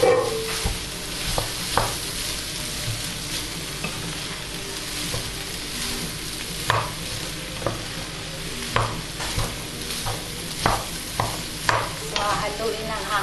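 Rice sizzles steadily in a hot pan for fried rice while a spatula stirs and scrapes it, giving repeated sharp knocks against the pan over an even frying hiss, with no talking.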